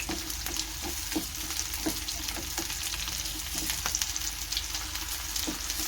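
Chopped onions sizzle and fry steadily in hot oil for a matar paneer gravy, with a constant crackling hiss punctuated by occasional sharp taps and scrapes of stirring, close and without any voices.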